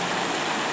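Water rushes steadily through a creek in the Canterbury high country of New Zealand, a dense, even wash of flowing water that fills the whole short moment without pause.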